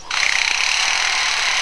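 A lyrebird imitates a jackhammer with a short, loud, rapid rattling burst that starts abruptly and holds steady as a harsh, noisy pulsing for under two seconds.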